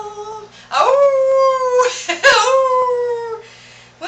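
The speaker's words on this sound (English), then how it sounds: "And you probably don't know why Mack howled" A dog howls in long, wavering rising and falling tones, loud and close, with a brief break in the middle before the howl resumes and fades.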